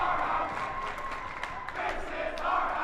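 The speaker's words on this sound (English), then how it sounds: "Ludlowe crowd is making New Canaan hear it here" Fairfield Ludlowe Falcons fans roar and chant in a gym during a boys basketball game against New Canaan, a steady loud crowd din with rising cheers and sharp shouts throughout.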